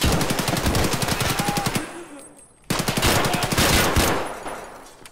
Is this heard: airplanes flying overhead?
no